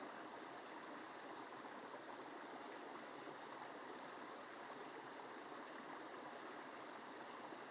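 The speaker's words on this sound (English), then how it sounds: "Hearing that running water, listening to the birds and the insects." Steady, rushing flow of a forest stream, a constant broadband wash of running water heard softly with no other sounds.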